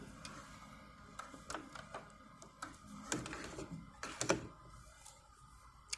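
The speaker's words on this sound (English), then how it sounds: "The end of my dart is now aligned with the notch in my presser foot, and I just sew straight down." A home sewing machine stitches straight down the end of a dart in fabric for a small doll dress, giving faint, quiet mechanical chatter with a few louder clicks and clacks.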